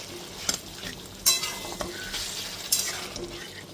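Vegetables and spices are sautéed in a pan with Kashmiri chilli powder, under a steady sizzle of frying, while a spoon stirs and scrapes and knocks sharply against the pan a few times.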